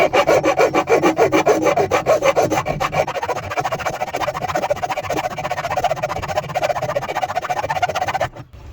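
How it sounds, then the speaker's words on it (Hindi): Loud, close back-and-forth rasping of a hacksaw blade cutting a slot into a rusted washing machine screw, with steady rhythmic strokes that continue until stopping near the end, with no talk. "इस आरी के ब्लेड को पेच के अंदर ऑलरेडी लगे हुए कट के ऊपर रख के इसे हम काटना शुरू कर देंगे"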